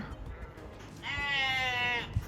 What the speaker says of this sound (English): Just a couple of sheep out and about.